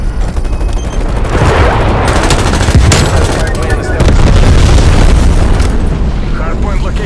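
Napalm strike explosions roll and rumble in Call of Duty: Black Ops Cold War Hardpoint on Nuketown '84, thick and continuous, with bursts of gunfire crackling throughout at close, loud range.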